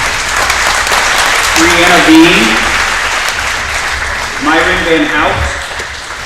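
An audience at a graduation ceremony applauds staff service milestones, steady clapping running throughout while a man reads out names over it at two moments.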